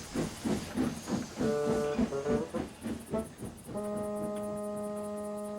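Steam locomotive in the Trainz railway simulator hissing in rhythmic chuffing bursts, then settling into a steady whistle-like tone toward the end; moderately quiet with no voices.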